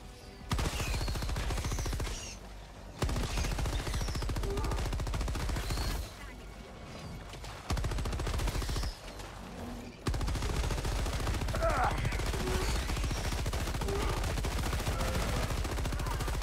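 An arc gun in Helldivers 2 fires continuously in dense, crackling bursts that run almost unbroken, with brief pauses between volleys, loud and close with no talk over it.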